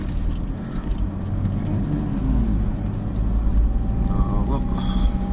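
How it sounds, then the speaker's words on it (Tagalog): A vehicle engine rumbles steadily and loudly at the Fontana, Clark, Pampanga motor event, a constant low drone that never lets up, with people talking over it and a faint whine rising near the end. "Ano ba yun? Engine yan."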